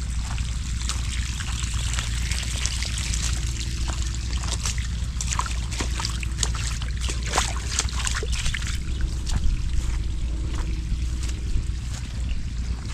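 Irrigation water trickles and runs steadily across a muddy farm field, a continuous close wash of flowing water under a low rumble, with no talking.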